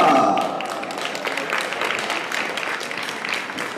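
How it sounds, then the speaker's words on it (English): Audience applause at a home exhibition show, greeting interior designer Naomi Cleaver as she takes the stage; a dense wash of clapping, slightly louder at first, then holding steady. "please welcome on stage with a huge round of applause the very talented Naomi Cleaver"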